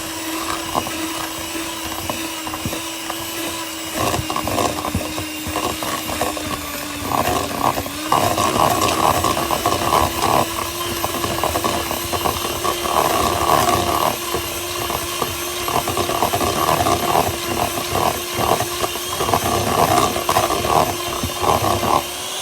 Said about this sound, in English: now I'm gonna blend it